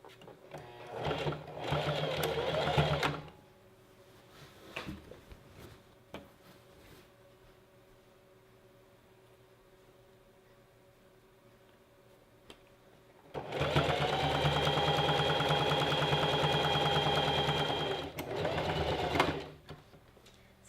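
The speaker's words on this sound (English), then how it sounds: "So now I'm doing a 1-inch hem on the bottom." A sewing machine runs a 1-inch folded hem along the bottom of a gathered maxi dress, in a short burst first, then a long pause, then a second sustained run of steady, close whirring stitches.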